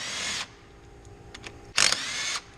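A small Bauer 1/4 inch impact wrench whirs in two short high-pitched bursts with brief clicks between them, close and fairly loud.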